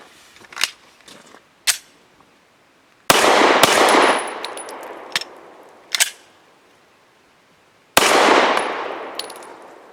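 A Remington RP9 pistol firing 124 grain Federal HST hollow points: a few sharp, loud reports with ringing decays, separated by quieter clicks and mechanical handling noises.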